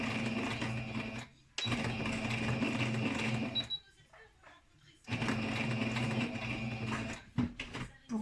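Sewing machine stitching cotton fabric for a pleated face mask, running in steady continuous bursts at a close, fairly loud level, with short pauses between seams and light handling noises in the gaps.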